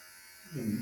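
An electric hair clipper starts buzzing on an animal's coat, a steady motor hum that swells up loud in the second half of the brief moment.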